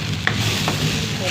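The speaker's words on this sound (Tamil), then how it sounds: "எல்லாம் கிளறி விடணும்." Spices such as cumin are stirred in a pan with tamarind for a curry, giving a brief, close sizzle with a soft scrape of the spoon against the pan.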